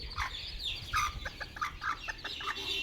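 Several native country chickens cluck close by in short, irregular bursts, a busy chorus of clucks over a low background rumble.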